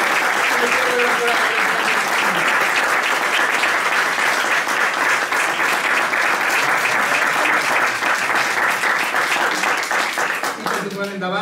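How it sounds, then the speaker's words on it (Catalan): A concert audience gives sustained loud applause for the conductor of a youth music band at a festival in l'Olleria, dense clapping running steadily throughout before fading near the end. "un aplaudiment per la mestra"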